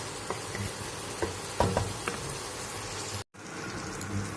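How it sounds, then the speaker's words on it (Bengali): Hilsa fish head and water lily ghonto stir-frying in oil, a soft steady sizzle with occasional scrapes and clinks of a spatula, briefly cut to silence near the end. "এটাকে আর একবার ভালো করে তেলটাকে দিয়ে কষিয়ে নেব"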